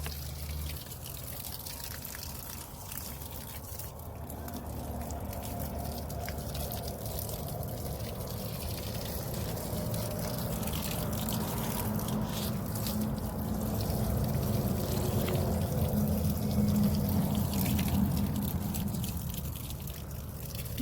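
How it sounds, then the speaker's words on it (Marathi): Water pours and trickles steadily while garden rows in a vineyard are watered, a soft continuous liquid gurgle that swells a little louder partway through and carries on without speech. "आपल्याला पाणी सगळ्या ओळीनं घालायचं"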